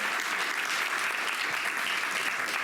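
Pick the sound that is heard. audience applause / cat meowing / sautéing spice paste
audience applause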